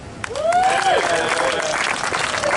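Loud, raucous audience applause and cheering at a live public debate on rent control, a dense sustained roar of clapping with whoops and a voice rising above it, steady for the full stretch.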